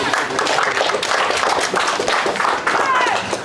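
An audience at a memorial service claps and cheers as a granddaughter walks up to give the scripture reading, producing a steady, close wash of applause lasting a few seconds with voices mixed in.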